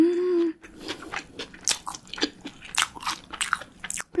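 Bites into a shrimp burger with a double patty at close range, a string of crisp crunches and moist chewing sounds following in quick succession, with no talking.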